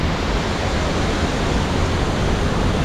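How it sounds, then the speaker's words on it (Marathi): Zunj waterfall near Amravati pours in a dense, steady rush of falling water, loud and unbroken throughout with no voices. "फक्त पाण्याचा आवाज येतोय."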